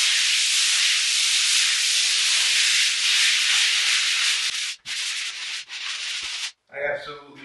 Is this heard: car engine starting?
no